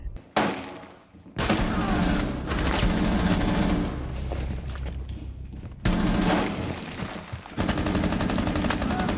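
Rapid automatic gunfire in Rainbow Six Siege comes in loud, sustained bursts, broken by brief pauses and abrupt restarts, with occasional glassy crashes mixed in.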